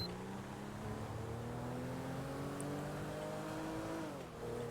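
A Ram 1500 pickup truck engine drives along steadily in GTA 5, its hum smooth and continuous with a slight rise in pitch before it eases off near the end, fairly quiet and heard with no voices.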